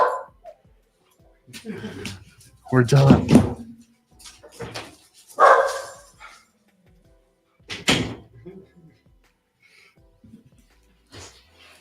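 A household's dogs bark in a few short, loud bursts spread across the stretch, mixed in with a man's brief speech and indoor knocks.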